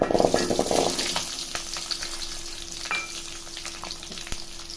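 Small shallots and curry leaves fry in hot oil in a pan, a loud close crackling sizzle that is busiest at first and then settles into a steady hiss with occasional stirring clicks.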